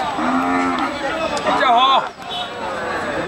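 A cow lows loudly and close at Teyarir Hat cattle market in Padua, Chattogram, one long drawn-out moo with market noise around it.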